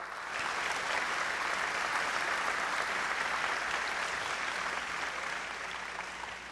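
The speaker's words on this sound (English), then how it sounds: "A round of applause for them." An audience at a Columbus Celebration gala claps for scholarship students, an even, sustained wash of applause heard from a distance at moderate volume.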